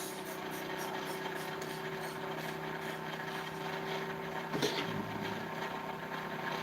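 A small pulse motor with tiny coils and a reed switch spins at about 2,000 RPM, giving a steady high buzzing whir with a constant tone, joined near the end by a short clack.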